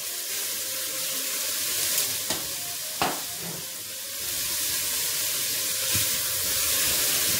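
Dill sautéing in a pan with oil for a Greek lamb dish, a steady hissing sizzle with occasional stirring clinks and scrapes, close and continuous.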